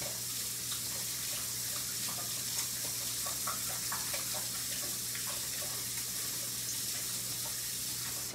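Kitchen tap water running steadily into a sink while hands are washed before cooking, a constant close hiss with faint splashes and a low hum underneath, no talking.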